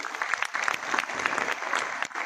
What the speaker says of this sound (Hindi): डॉक्टर सॉरी डीके सारंग जी का एक ताली हो।